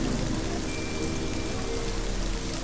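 Steady rain falls without pause, a dense, even wash of drops spread across the whole range, close and moderately loud with no voices.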